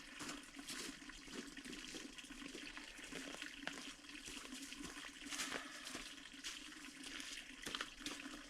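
Spring water rushes and gurgles continuously nearby, a steady splashing flow with no voices.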